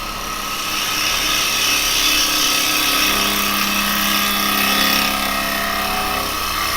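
A wood lathe spinning at 2000 RPM makes a loud, steady whine and drone, with a tool cutting against the turning workpiece, running continuously with a slight swell midway and no talk.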